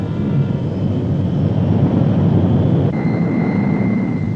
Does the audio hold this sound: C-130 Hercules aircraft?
yes